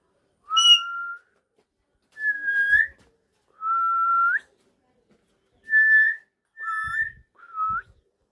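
A pet mynah bird gives six sharp, clear whistled calls in quick succession, each a bright rising tone with short pauses between, close and loud with no talking over them.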